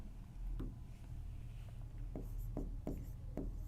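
Pen or chalk writing on a board or paper during a maths lesson makes short, quiet scratchy strokes in irregular bursts over a low steady hum, close by, with no talking.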